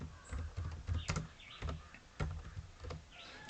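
Someone types on a computer keyboard, a short run of soft, uneven key taps close by with no talking.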